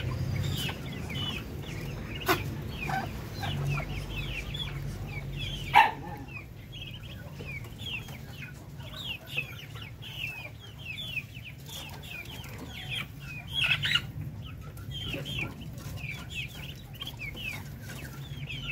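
Native Darag chickens and chicks on a farm at feeding time, with many soft clucks and high chick peeps chattering continuously at moderate distance, a few louder calls standing out over a low background hum.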